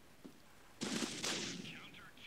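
Shotgun blasts in Critical Ops game, a faint early shot then two loud close bursts in quick succession with a ringing tail and voices under them.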